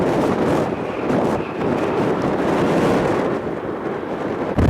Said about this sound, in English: the wind is exceptionally intense, even for a protected microphone